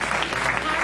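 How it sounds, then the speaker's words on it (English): A church congregation at a Sunday service applauds, dense steady clapping filling the short moment at close range. "give a hand clap to the Lord"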